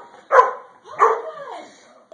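A Golden Retriever puppy gives two close, loud barks in quick succession, the second trailing into a whiny yelp, indoors near a couch.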